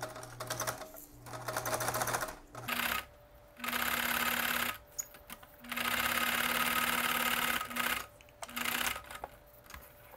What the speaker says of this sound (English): I'm doing this about 1/8 inch from the edge.